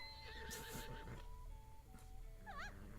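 A horse in Zelda: Tears of the Kingdom gives a high, wavering whinny followed by a second shorter neigh, with soft hoof clops and game chimes behind it at a low level.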